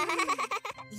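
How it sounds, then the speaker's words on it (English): A cartoon sheep gives one drawn-out, quavering bleat that pulses several times before tailing off, loud, close and alone, like a playful sound effect in a children's show. "A sheep goes baa."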